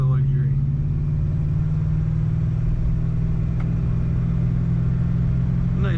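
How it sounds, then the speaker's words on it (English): The engine of a 1974 Lincoln Mk IV gives a deep, steady rumble from inside the cabin while the car accelerates. The low drone stays constant throughout. "Nice rumble when you get on that throttle"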